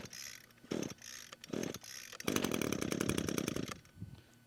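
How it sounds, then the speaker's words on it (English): A string trimmer's recoil starter is yanked twice in short, raspy bursts, then the small two-stroke engine catches and sputters rapidly for over a second before dying away, with no voices. "So we'll go ahead and start to fire the machine right now."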